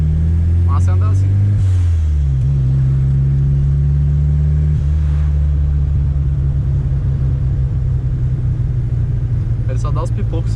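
A Chevrolet Chevette, driving, holds a loud, rumbling mid-pitched engine note that drops in pitch early, then settles into a steady drone, with brief voices at the start and end.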